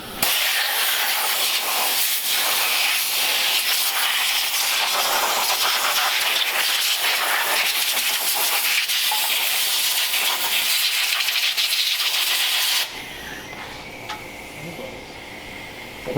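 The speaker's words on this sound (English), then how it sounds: "So we're going to fire the air compressor up and start ripping into it." An air compressor runs with pneumatic air tools while work starts on a 1947 Ford Coupe with a 302 engine, a loud continuous hissing blast that cuts off sharply near the end, leaving quieter background noise.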